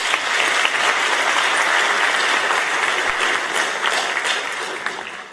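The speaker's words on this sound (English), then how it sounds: "So give yourselves a round of applause." A graduation ceremony crowd at a technical education center applauds, a sustained dense clapping with a few sharper claps, tapering slightly at the end.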